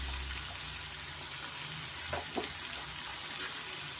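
Sliced onions and curry leaves sizzle in hot oil in a pan for garlic chicken, a steady close hiss with a few light stirring scrapes.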